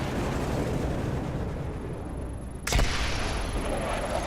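Bomb-run explosions in a Vietnam War video game: a dense, continuous rumble of blasts and fire, with one sharp, louder detonation bursting through about two-thirds of the way in.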